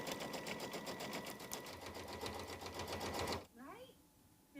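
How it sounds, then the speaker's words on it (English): A sewing machine stitching a tack down stitch on quilt fabric, a steady fast whirring hum for a few seconds that stops abruptly, followed by a brief quiet voice. "it's going to do the tack down stitch to hold it in place"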